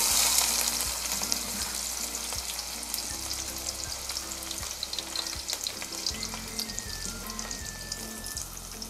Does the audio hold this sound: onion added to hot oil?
yes